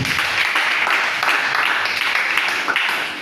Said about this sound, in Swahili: Tumpigie Kristo makofi.